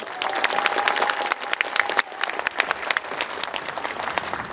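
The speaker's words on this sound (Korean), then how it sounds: "여러분 다시 한번 큰 박수를 부탁드리겠습니다." A concert audience at a commemorative event marking a former Korean president's 105th birth anniversary gives sustained applause, a thick, even roar of many hands clapping throughout, with a faint voice briefly audible early on.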